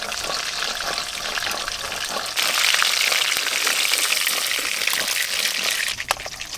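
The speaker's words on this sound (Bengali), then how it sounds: "পাঁচ মিশালি মাছগুলোও বেশ ভালো করে ভেজে নেব" Small river fish, a mix of five kinds, frying in oil in a wok: a dense, loud, continuous sizzle that swells brighter partway through, with occasional stirring scrapes and no talking.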